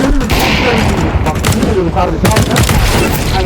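Rapid gunfire in Counter-Strike crackles in dense bursts through a loud, busy game mix, with players talking over the shots.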